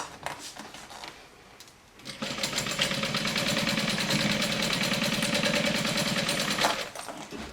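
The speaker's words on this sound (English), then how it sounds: "I'm going to sew all around it" A sewing machine stitches around a pinned fanny pack, starting after a short pause and then running in a fast, steady mechanical chatter for several seconds before easing off.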